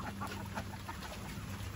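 Geese and Peking ducks on a farm, with faint clucks and quacks scattered among steady outdoor noise and a constant high hum, all fairly quiet.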